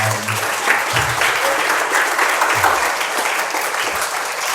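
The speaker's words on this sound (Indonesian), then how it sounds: "Boleh tepuk tangan untuk Bang Ihsan." Junior and senior high school students at an Islamic school applaud a guest speaker, a dense, steady crowd applause filling the room for several seconds.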